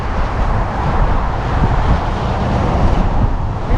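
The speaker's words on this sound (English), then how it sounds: "I think there might be some wind noise on this video." A strong wind blows ahead of a storm in dusty open country, battering the microphone with loud, continuous rumbling buffeting and roaring gusts throughout.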